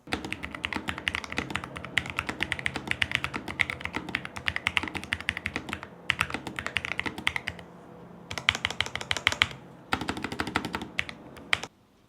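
Rapid typing on a low-profile keyboard with soft, muted, creamy keystrokes in dense bursts, separated by a few brief pauses, close and fairly loud.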